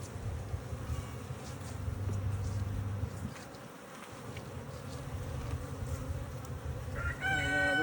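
Honey bees from a wild hive swarm and buzz around the opened boxes during a February inspection, a dense steady drone that stays close and loud throughout, with a brief dip midway and a sharper buzz near the end.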